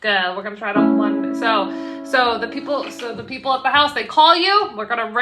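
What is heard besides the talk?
None of the usual background noises is heard.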